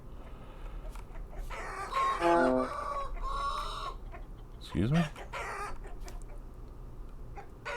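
Roosters and hens in the video game Vintage Story cluck and call nearby, with one rising crow-like squawk midway, while a person speaks briefly over the farmyard noise.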